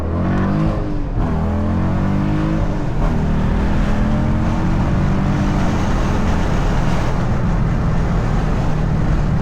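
A Dodge Durango SRT 392 engine roars steadily while driving on a highway, a deep rumbling growl with rising revs, loud and continuous throughout.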